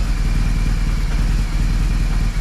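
A BMW R 1200GS motorcycle engine idles close by with a steady low rumble and slightly uneven, lumpy pulses, running rough, no voices.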